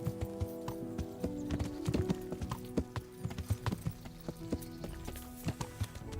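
In a first-person video game, a ridden horse trots along with a clear, rhythmic clip-clop of hooves, close and steady throughout.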